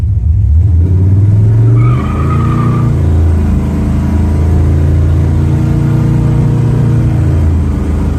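A muscle car with drum brakes launches hard from a standstill, its engine roaring loud and close with tire squeal, revving up and holding a strong, continuous note with no talk.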